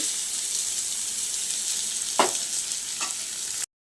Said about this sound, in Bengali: পেঁয়াজ কুচি দিচ্ছি,